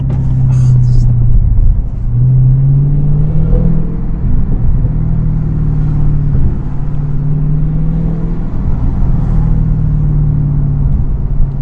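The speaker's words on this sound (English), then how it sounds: "It's the sound, the exhaust back there, the supercharger up in the front." Supercharged 717 hp Dodge Hellcat with a loud, low exhaust rumble and supercharger whine while accelerating from low revs in second gear, heard from inside the car as a steady drone with rising engine pitch.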